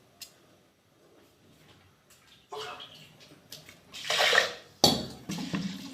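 Rice being washed by hand in water in a pot during morning cooking: sloshing, swirling water with scraping and clinking against the pot, starting after a quiet moment and building into louder bursts near the end.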